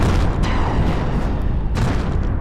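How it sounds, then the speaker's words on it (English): A cannon fires and a ship explodes in the VR space combat game Space Battle VR: a dense, steady roar with two sharp booming bursts, the second larger and closer. "Or I guess that was us exploding."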